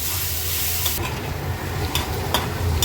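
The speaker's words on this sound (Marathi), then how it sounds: "आता हा कांदा लो फ्लेमवर आपल्याला शिजवून घ्यायचा आहे" Finely chopped onion fries over a low flame, a soft constant sizzle with a low rumble beneath and a few brief scraping stirs of the spoon, with no one speaking.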